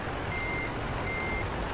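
Steady electronic reversing beeps from a truck in Euro Truck Simulator 2 repeat faintly over a constant engine rumble, with no talking.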